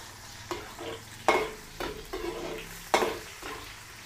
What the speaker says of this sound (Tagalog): Tutostahin po natin ng konti yung bawang para mabango, pero huwag natin susunugin.